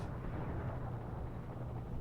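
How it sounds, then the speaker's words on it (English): A missile explosion in the video game Desert Strike rumbles as a dense, faint, sustained low roar with no clear separate blasts. "the rockets start taking off, but it gets caught up in the explosion"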